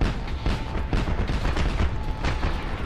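A plane crashing and exploding in the video game Just Cause 2, a dense continuous roar of booming, rumbling blasts, loud and close with no clear gaps.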